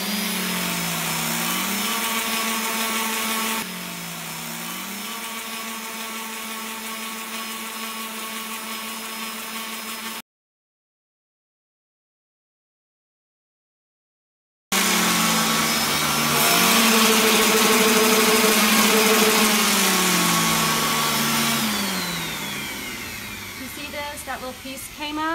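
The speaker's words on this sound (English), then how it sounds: "Don't mind the noise of the sander." Electric sander running on a wooden canvas, a loud steady whirring drone with pitch dips, broken by a few seconds of silence before starting again and winding down at the end.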